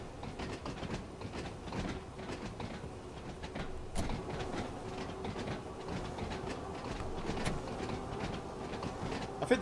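Bakerloo Line train running in Train Sim World 2, a steady rumbling ride with rhythmic wheel clicks and a faint motor whine, fairly quiet and continuous with a sharper knock midway.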